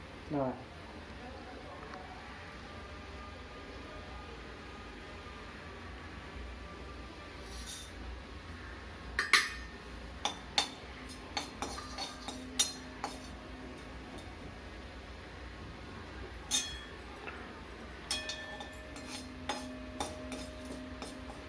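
Mustard seeds, urad dal and curry leaves stirred in sesame oil in a pan for potato curry, with intermittent metallic scrapes and ticks, close, over a low background hum.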